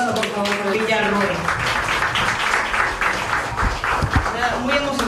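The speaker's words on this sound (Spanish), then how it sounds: "Un aplauso, por favor" A live audience at a Panamanian public event applauds after a media director is introduced, with dense clapping filling the scene and voices mixed in beneath it throughout.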